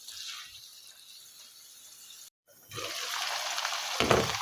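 Chicken tantuni cooking in a pan, a soft steady sizzle that cuts off briefly as the lid goes on, then returns as a louder, fuller frying hiss with a clunk near the end.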